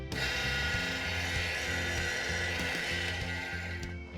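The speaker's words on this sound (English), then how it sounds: "First I need to drill a hole." A power drill whirs steadily while boring a hole, a continuous whine with faint rhythmic pulsing that cuts off at the end.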